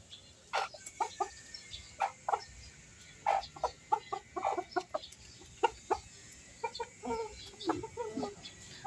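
Silkie chickens cluck in soft, scattered bursts throughout, fairly close, with short pauses between calls and no talking.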